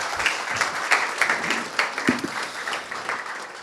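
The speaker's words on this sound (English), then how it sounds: "One more round of applause, please" Audience applause after a pitch at a cyber accelerator pitch event, a steady roomful of clapping with scattered sharper claps, fairly close and moderately loud, no speech over it.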